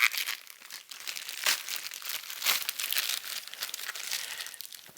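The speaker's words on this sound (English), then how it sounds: "Let me cut the power cord out of its little wrapper." Plastic packaging being cut and pulled off a power cord while unboxing an ELAC SUB1010 powered subwoofer: close, continuous crinkling and rustling with a few sharper tearing bursts, no talking.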